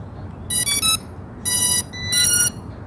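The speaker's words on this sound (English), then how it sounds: "You just turn on the drone as well, so that you can hear the beeps." KAI TWO PRO drone powering on with three bursts of high electronic beeping, the first a quick triple chirp and the next two longer tones, over faint background hiss.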